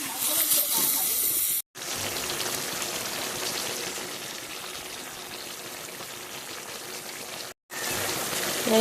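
Water is poured into a hot pan of taro stolons and dried fish, giving a steady rushing hiss and boiling sizzle that runs nearly the whole time, broken by two brief silent gaps, close by.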